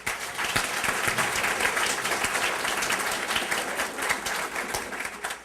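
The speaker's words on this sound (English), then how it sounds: "let's give them a big round of applause" An opening-ceremony audience applauds the planning committees and organizations with dense, sustained clapping that fills the room for several seconds before tapering slightly at the end.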